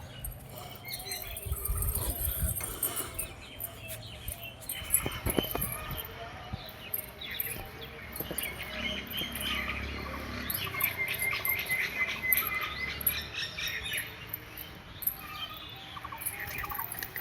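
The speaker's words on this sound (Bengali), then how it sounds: "আর পায়রাগুলো সব এদিকে খাচ্ছে।" Pigeons feed in a loft, giving soft pecking, pattering and shuffling sounds with light scrabbles and faint coos at close range, quiet and irregular throughout.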